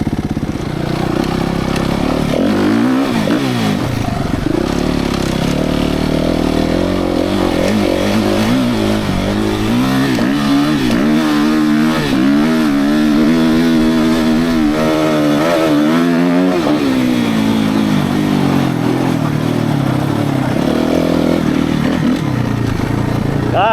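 A Suzuki RMZ-450 dirt bike engine at speed on a wet track, rising and falling revs through the gears, loud and close for most of the stretch.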